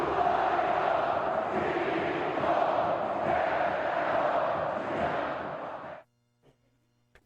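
A large football crowd of nearly 60,000 roars steadily in a stadium during Ceará vs Flamengo, a loud, dense wash of voices that cuts off abruptly near the end, leaving near silence with faint thumps.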